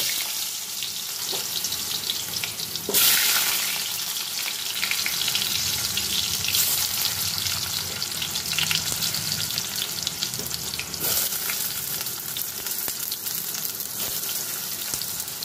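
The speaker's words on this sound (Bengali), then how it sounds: "এবার ভাপানো আলুগুলো দিয়েও একটু ভেজে তুলে নেব।" Steamed potatoes frying in mustard oil: a steady oil sizzle, close and continuous, with occasional brief louder hisses and faint clinks, no voices.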